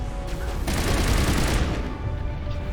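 Turrets fire in the video game Mass Effect 1, producing a dense, loud burst of rapid gunfire with booming impacts and no talking.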